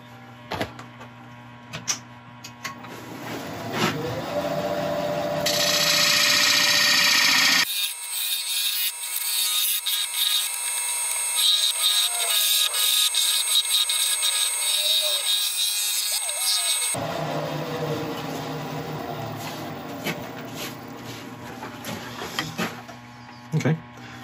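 Lathe turning an olive ash bowl, gouge working from the rim toward the center with steady scraping and hissing cuts over the motor hum, close and fairly loud, with a louder, brighter stretch of cutting in the middle.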